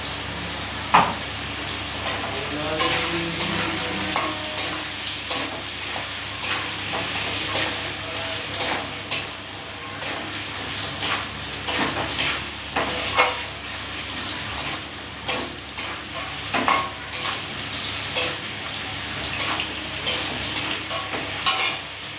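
Poppy seeds frying in a pan with okra, a steady bright sizzle broken by repeated scraping stirs of a utensil, close and loud, no talk.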